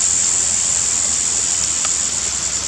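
A flooded Babinda Creek rushes after a night of heavy rain, a dense, steady roar of fast water close by and loud, with no pauses or voices over it.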